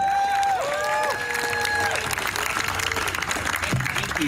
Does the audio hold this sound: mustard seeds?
no